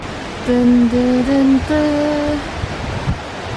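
Steady rushing water of the Trevi Fountain in Rome splashes without pause, with a voice briefly humming or calling over it in the middle.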